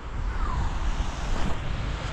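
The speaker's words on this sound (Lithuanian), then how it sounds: "labai didelis vėjas" Strong wind blows across a seashore on a cold morning, a steady close roar buffeting the microphone with low rumbling gusts and no voices.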